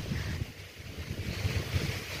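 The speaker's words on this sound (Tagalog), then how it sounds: "Yung hangin" Strong typhoon wind roars and gusts against the microphone in rumbling surges, with a broad airy hiss above, loud and continuous with no talking.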